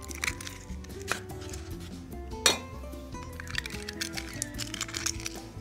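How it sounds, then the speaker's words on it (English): Eggs cracked against a bowl in a kitchen, several sharp knocks and clinks spaced out over a few seconds amid faint background clatter, close by. "I'm going to crack 8 eggs in here."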